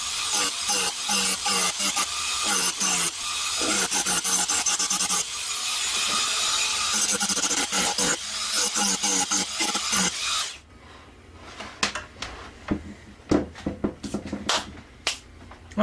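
A composite grinding disc scrapes rust off knife steel in loud, choppy bursts of harsh abrasive rasping, then drops to scattered short scrapes and clicks.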